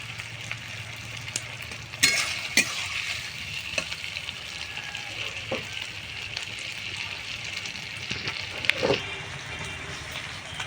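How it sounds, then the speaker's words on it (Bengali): Capsicum frying in a pan for egg chilli, a soft steady sizzle with a few light clicks of a spoon against the pan, moderately quiet and without talk. "এখানে দেখো ক্যাপসিকামটা আমার ভাজা ভাজা হয়ে গেছে প্রায়।"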